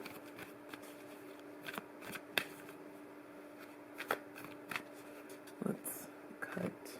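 Angel Answers oracle cards by Radley Valentine shuffled by hand in short, soft riffling bursts spread across a quiet room, with a steady low hum underneath.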